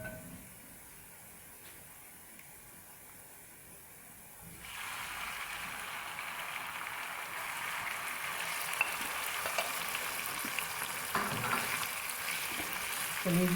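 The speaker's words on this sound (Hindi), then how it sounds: "कलेजी डाल के फ्राई करेंगे।" Chicken liver dropped into hot oil on a tawa with lightly fried chillies; a quiet hiss gives way to a louder, steady sizzle and crackle that persists alone to the end.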